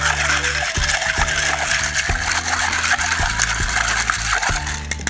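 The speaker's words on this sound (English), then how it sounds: "Take your spoon, give it a little stir, get it nice and chilled." Ice rattles and clinks in a cocktail shaker as a spoon stirs it for a mojito, a steady near clatter of small knocks and scrapes running throughout without talk.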